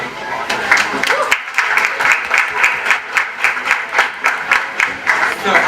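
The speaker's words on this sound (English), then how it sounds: "So you could just give them a round of applause." An audience at a roundtable with Philadelphia DJs claps in a loud, steady rhythmic beat, many hands striking together in unison with crowd noise underneath.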